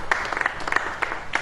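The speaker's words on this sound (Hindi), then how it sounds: "अब ताली बज रही है" A congregation claps during a Christian sermon, with a brief run of close, uneven hand claps over low room noise.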